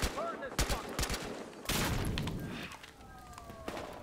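Bursts of gunfire crackle in quick volleys, then a heavy bomb explosion rumbles through, with game-like effects and a faint voice underneath, in Battlefield Hardline on Xbox One.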